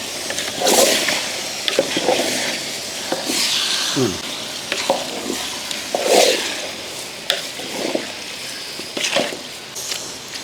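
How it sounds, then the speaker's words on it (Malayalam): Salted gooseberry pickle (nellikka achar) is stirred in a hot pan, with soft sizzling and intermittent scraping strokes of a spoon against the pan, fairly close and loud. "ഈ ഉപ്പിട്ടതിന് ശേഷം ഒന്നുകൂടെ ഇളക്കി കൊടുക്കാം"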